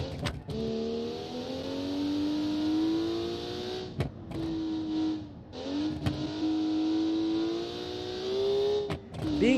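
Car engine revving in the Automation game, a roughly 200 horsepower car weighing about a ton: a close, steady droning engine note climbing and holding pitch, broken by a few sharp clicks or gear changes, with no speech.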